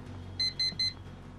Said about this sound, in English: This fucking alarm clock.